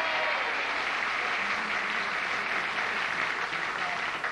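A game show studio audience breaks into steady, enthusiastic applause, a dense continuous patter of clapping held at even strength for several seconds.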